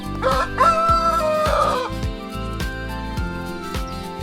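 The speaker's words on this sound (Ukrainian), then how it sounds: "Курочки весело куткудакали, знаходячи зернятка у сіні." Chickens cackle and cluck over rhythmic farmyard music, a rooster-like call rising near the start, steady and fairly loud throughout.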